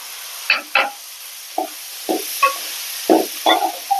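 Drained horse gram and curry leaves fry in a pan with a steady soft sizzle, broken by a series of sharp crackles and pops arriving in uneven bursts, close and fairly loud, with no talking.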